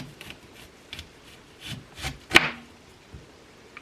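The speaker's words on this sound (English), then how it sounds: "I'm just going to cut it in slices like this." A knife slicing through an onion, a few close, soft crunchy cuts with one sharper, louder chop near the middle and quieter scrapes around it.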